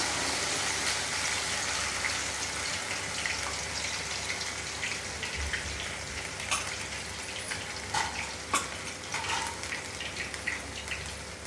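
Hot oil with cornflour mixed in, poured to trap dust, gives a steady broadband hiss and sizzle with scattered crackles and pops for the whole stretch, close and moderately loud, with no talk.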